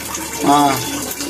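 Water runs from a Kangen water ionizer set to its beauty water mode, making a steady flowing stream with a brief surge in the middle while a person talks over it.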